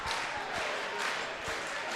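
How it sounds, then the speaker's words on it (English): A crowd at a Friday night girls high school basketball game between Catholic Memorial and Oak Creek, applauding loudly in a gym with a few distinct sharp claps standing out from the steady wash. "All clapping in sync"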